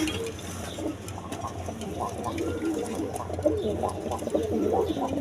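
Soft, continuous cooing from several coloured pigeons at a pigeon farm overlaps in low burbling rhythms, close by, with a faint background hum.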